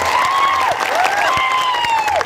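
An audience at a political rally applauds steadily and loudly, with dense clapping filling the space while a voice or tonal sound glides above it.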